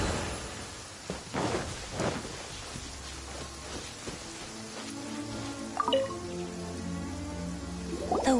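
Steady rain patters and drips across surfaces in a soft, continuous wash, with a few scattered louder drops and faint tonal sounds in the background.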